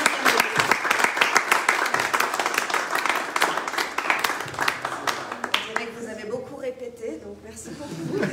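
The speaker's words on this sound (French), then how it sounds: "je trouve qu'on peut vous applaudir" Audience applause follows a book presentation, with dense clapping for about five seconds that thins into scattered claps under murmured talk and a voice speaking.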